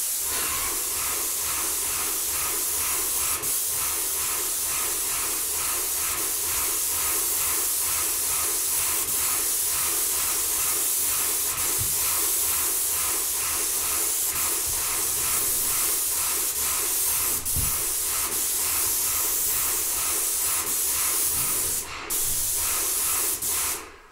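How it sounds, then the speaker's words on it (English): A steady, continuous spray hiss of paint being sprayed onto a ceiling overhead, broad and constant for the whole stretch, with a brief dip near the end. "we're gonna roll and spray our first coat this direction"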